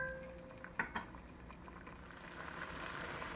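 Lemon chicken orzo liquid simmering in a single pot, a faint low bubbling with a couple of soft clicks near the start, quiet and steady throughout with no voices.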